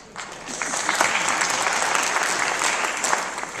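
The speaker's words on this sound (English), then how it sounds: "I just encourage you just to hold your applause, please" Steady applause from an audience, many hands clapping at once, sustained and fairly loud throughout.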